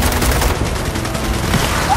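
Dense, rapid gunfire in the video game Gears of War 4 during a base assault, a continuous loud fusillade of overlapping bursts with no pauses.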